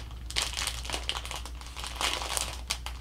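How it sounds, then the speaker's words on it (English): Paper crinkles and rustles close by as tape is pressed on and the wrapping is folded around a neck tie for shipping, in a few soft irregular bursts. "I take a little bit of tape and I tape it right here to hold the two halves together"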